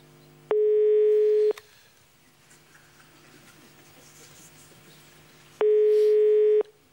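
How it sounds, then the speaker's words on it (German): A steady telephone line tone sounds twice on a German phone line in a TV talk-show studio, each tone a loud, even hum lasting about a second, separated by a few seconds of faint room murmur. "Hier ist das Freizeichen."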